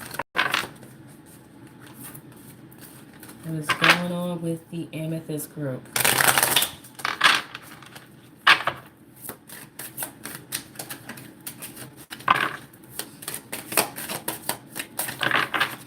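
Tarot cards are shuffled repeatedly with riffling, tapping and flicking sounds, close up, while a person talks over them.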